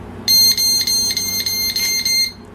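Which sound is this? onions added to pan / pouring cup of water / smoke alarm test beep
smoke alarm test beep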